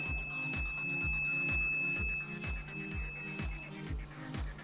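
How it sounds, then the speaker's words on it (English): A 3D printer's low filament sensor buzzer sounds a steady repeating alarm, a rapid regular pulsing beep over a constant electronic whine, close and clear. "When the filament runs out or comes through, it sets off a buzzer."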